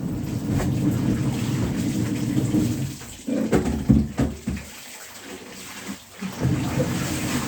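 Water pours steadily into plastic laundry basins at close range, a continuous rushing splash that briefly dips and changes tone as the flow shifts between containers.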